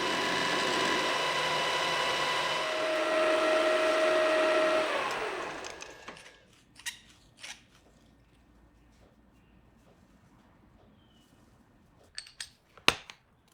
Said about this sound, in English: I forgot completely about turning the outside diameter down to size, so I'd better do that next